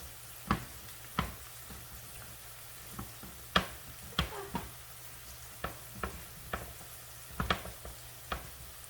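A jar of Alfredo sauce is stirred into cooked noodles, with a soft sizzle underneath and a string of sharp spoon clacks and scrapes against the pot, spaced irregularly and close by.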